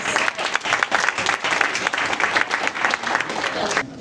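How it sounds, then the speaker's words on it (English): Audience applause for authors at a book launch: steady crowd clapping that stays strong throughout, with some voices mixed in, and it cuts off abruptly at the end. "a big round of applause to all of our authors"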